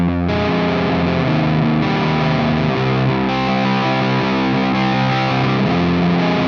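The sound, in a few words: guitar distortion, GUP Tech T-Bag stacked with Rat pedal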